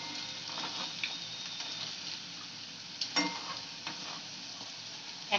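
Chicken pakoda deep fries in hot oil, a soft continuous sizzle and crackle up close with a few light stirring clicks and taps, no talking.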